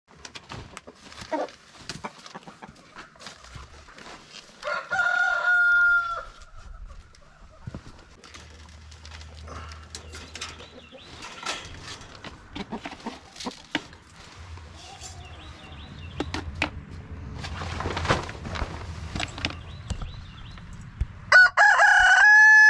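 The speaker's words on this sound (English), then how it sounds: "the other rooster was coming after him" Roosters crow during morning chores on a small farm that keeps pigs. Clear crows ring out mid-clip and again near the end, between scattered clucks, rustling and intermittent thumps. There is no talking.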